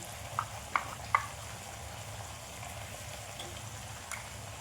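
Turmeric, coriander and chilli powder fry in oil for khichuri with a faint, steady sizzle, broken by a few light clicks of stirring near the start.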